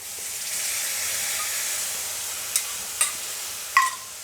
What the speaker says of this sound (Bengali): এখন আমি এই যে দইটা ফাটিয়ে রেখেছিলাম